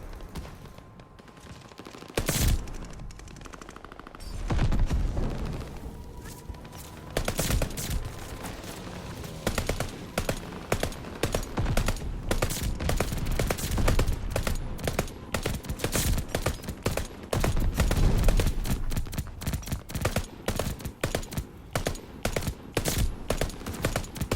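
A light machine gun in Call of Duty: Vanguard fires in short, rapid taps, close and loud, with bursts repeating almost continuously over a steady game background.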